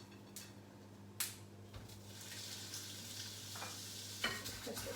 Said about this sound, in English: That pan's starting to heat up. So I want to get those patties into the pan.